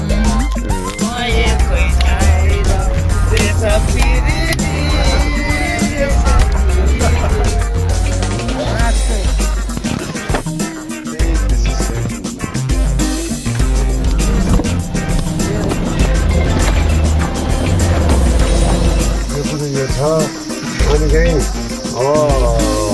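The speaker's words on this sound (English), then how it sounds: "First Nepali bus ride." Bus ride in Nepal, with a loud, constant rumble of engine and road noise, rattling and jolts throughout, and people talking underneath.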